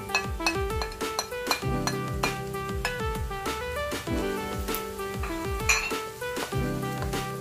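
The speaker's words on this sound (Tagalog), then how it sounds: "Pagkalagay ng ating onion, haluin lang din natin, ganyan, hanggang sa mag-golden brown." Onion being stirred and sautéed in a pan for a Filipino butter garlic seafood dish, with repeated metallic scraping and clinking of a utensil against the pan over a soft sizzle, close and busy, with no talk.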